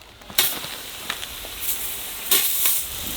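A hose sprays water over a freshly landscaped shrub bed to soak it, a close, loud hissing rush that surges in bursts as the stream is swept across the plants.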